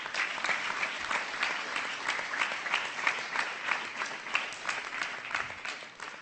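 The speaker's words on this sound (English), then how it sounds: "I request a big round of applause for them." A big round of applause for volunteers at a community center gathering, steady dense clapping from a crowd continuing evenly for several seconds with no talk over it.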